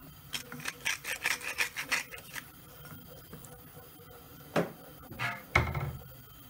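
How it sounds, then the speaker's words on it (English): A vegan cheese sauce being whisked gives quick, rhythmic scraping strokes for about two seconds, followed by quieter pauses and a few louder, scattered scrapes and knocks. The sound is fairly close and no one talks. "just keep whisking"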